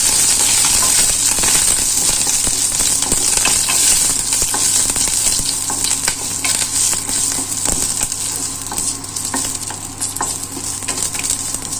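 Curry leaves hit hot oil already holding bay leaf and whole cumin for a ridge gourd dish, setting off a loud, dense, steady sizzle with faint crackles that lasts throughout.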